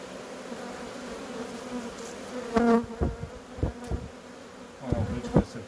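Honeybees buzzing at an open AŽ hive during brood expansion, a steady close hum with louder passing buzzes and some handling knocks of frames.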